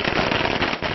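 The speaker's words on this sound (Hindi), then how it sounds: "उनके घर के बाहर आतिशबाजी की गई।" Fireworks crackle and pop in a dense, continuous burst outside a house during a celebration, loud and close throughout.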